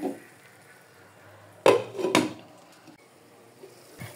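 A lid goes onto a pot of tomatoes cooking on the stove, making two close metallic clanks in quick succession, followed by quiet.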